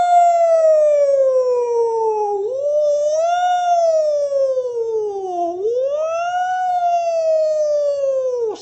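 A voice imitating a wailing police siren, rising and falling smoothly in long sweeps, loud and close, with no other sounds.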